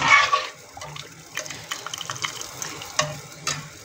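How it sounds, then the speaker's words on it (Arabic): Dry pasta tipped into a pot of boiling water, giving a watery bubbling wash with scattered splashy clicks and light clatter, close and moderate in loudness, with no talking. "هون عندي غلت المي، ضفت كمان هذا المعكرونة مشان تنسلق"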